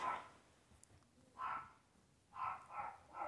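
A dog barks five times in short, faint bursts: one at the start, one pause, then a quicker run of three near the end. There is no talking.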